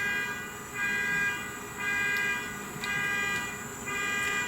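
A car alarm sounds some distance away, its steady cycling electronic tone repeating about every second over low background rumble.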